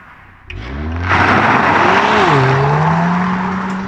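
A 2020 Ford Focus ST pulling away, its engine rising from idle into a loud, steady drone with a shifting pitch as it gathers speed, heard up close and with no talking.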